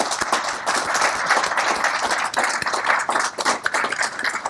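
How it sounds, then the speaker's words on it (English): Applause from the audience at a mining industry conference session, a dense, steady patter of many hands clapping at close range that carries through without a break and with no talk over it. "I think we really should give the panel a round of applause for what they've done today"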